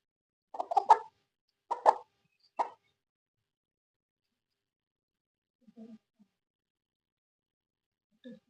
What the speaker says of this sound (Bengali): দেখেন কি সুন্দর লাল টকটকা মোরগ